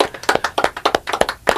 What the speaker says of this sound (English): I got a small round of applause for 6.